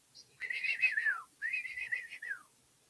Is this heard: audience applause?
no